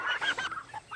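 Meat chickens clucking close by on a farm, a busy run of short overlapping clucks and calls with no talking.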